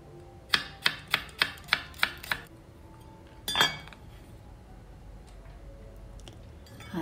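A knife chops garlic on a cutting board in a quick run of six or seven crisp, evenly spaced knocks, then a single louder thud and quiet kitchen clatter, close and clear with no talk.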